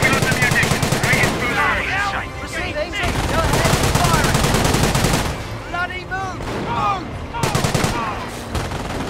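In a Company of Heroes multiplayer match, machine gun fire comes in repeated rapid bursts over busy battle noise, mixed with game voices speaking.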